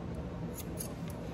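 Curved grooming scissors snip through an Australian Labradoodle's hair around the head and face, making a few quick, quiet metallic cuts at close range over a low background hiss.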